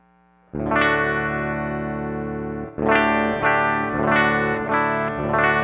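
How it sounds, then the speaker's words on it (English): A clean Telecaster electric guitar on the bridge pickup rings out with one long sustained chord, then several more strummed chords in quick succession, bright and twangy with no talking. "here's the sound of a completely clean Telecaster on the bridge pickup"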